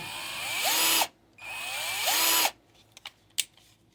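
A 12V cordless drill whirs up, runs, and winds down twice, pitch rising and falling with the variable-speed trigger, followed by a few small clicks.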